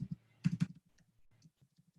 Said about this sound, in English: I don't know why I have such a hard time typing when I'm doing these.